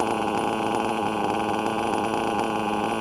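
A Novarossi P5 .21 nitro engine idling, a close, steady buzzing drone with a fast, even pulse and strong harmonics, holding a constant level.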